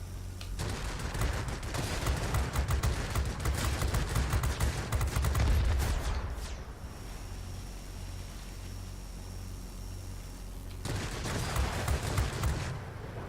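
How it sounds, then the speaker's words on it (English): Aircraft machine guns fire in World of Warplanes, flying the ME 209 A: loud sustained bursts roar over engine noise, pause for several seconds, then another burst resumes near the end. "I've been shooting him down."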